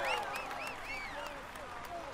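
Stadium crowd applause at a stage finish in the cycling game Tour de France 2015, a steady wash of clapping and cheering throughout with bright whistle-like tones over it.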